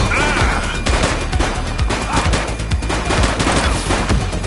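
Rapid bursts of gunfire in The Precinct police video game, a dense crackling fusillade of repeated shots throughout, loud and close with sharp overlapping reports.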